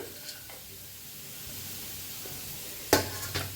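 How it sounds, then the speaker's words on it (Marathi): Onion frying in oil in a home kitchen pan with tomato, garlic and cashews, giving a soft, steady sizzle with a couple of sharp clatters from stirring near the end. "कांदा हलकासा भाजत आलेला आहे त्याच्यातच टाकूया टमाटर लसूण आणि काजू बी"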